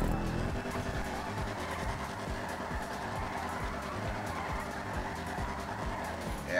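Declasse Vigero muscle car drifting in GTA 5 Online, engine droning steadily with a sustained tire squeal layered over it, loud and continuous through the whole stretch.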